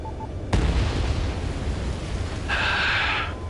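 Bombs from an enemy air raid in a video game burst with a sudden loud blast, followed by a sustained rumbling roar and a brighter hiss toward the end.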